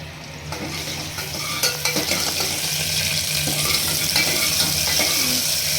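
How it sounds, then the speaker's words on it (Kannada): Steady crackling sizzle of mustard seeds and curry leaves frying in hot oil, close and continuous, with a few sharp pops and clinks. "ಇದರೊಳಗೆ ಕರಿಬೇವು ಸೊಪ್ಪು ಹಾಕಬೇಕು"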